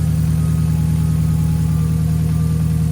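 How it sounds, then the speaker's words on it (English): A 2013 Scion FR-S with a Grams throttle body fitted idles close by, a steady low engine drone with an even pulse throughout and no talking. "so the car is idling"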